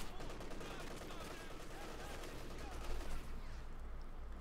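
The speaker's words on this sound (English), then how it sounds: "Maxim gunning away" Rapid machine-gun fire from a Soviet Maxim gun in the World War II strategy game Company of Heroes 2, a dense continuous clatter mixed with other battle noise and distant explosions across the whole stretch.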